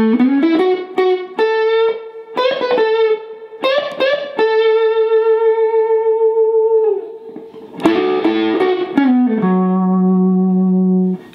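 Electric guitar with effects playing the second half of a lead phrase, clean bent and sustained notes with pauses and a final held chord.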